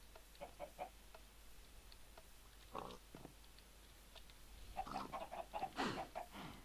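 Chickens in modded Minecraft clucking in short scattered bursts, soft and somewhat distant, growing busier toward the end with no talk over them.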